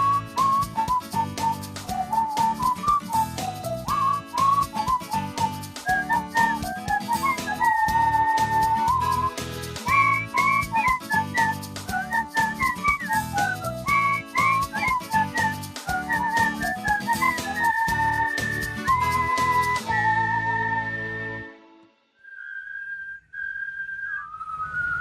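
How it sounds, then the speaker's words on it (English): A person whistles a lively, bouncing tune for about twenty seconds, loud and close over a busy musical backing, before the music drops away and a few final whistled notes trail off alone. "I love nothing more than whistling a tune as I ride."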